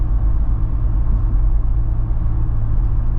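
A 2025 Jeep Wrangler engine, either the V6 or the 2.0-litre turbo four, runs with a deep, steady low rumble heard close up, with no talk over it.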